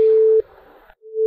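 A telephone busy tone follows a hung-up call in a drama: a loud steady electronic tone, a brief muffled gap, then the same tone sounding again, close and alone.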